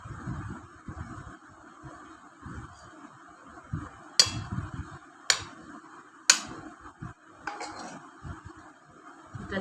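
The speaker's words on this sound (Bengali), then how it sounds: "এটা নীলাদ্রির প্লেট সাজানো হচ্ছে।" Plate of mutton and gravy being arranged for lunch, with scattered soft scrapes and three sharp ceramic clinks of a utensil against the dish, close by and without speech.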